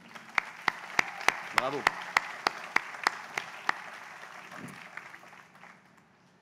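At a graduation ceremony, an audience claps for the graduates' families. Applause with sharp rhythmic clapping that thins and fades out over several seconds. A voice calls out briefly partway through.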